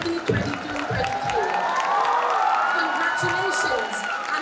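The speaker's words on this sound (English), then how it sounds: "Congratulations and a big round of applause to Master Wesley Desa, crowned as Mr." A school annual day audience applauds and cheers a student crowned at the ceremony, a broad, continuous crowd roar of clapping with shouts and children's voices over it, filling the hall.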